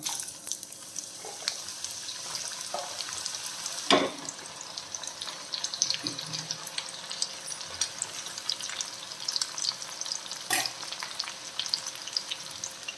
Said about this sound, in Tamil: ஒரு 2 வாட்டி கூட இந்த மாதிரி ஃப்ரை பண்ணி எடுக்கணும்